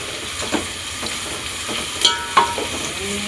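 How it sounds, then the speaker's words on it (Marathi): Onions fry steadily in a pan with a continuous close hiss, broken by a few soft crackles and pops. "आता चांगलं भाजा करूया"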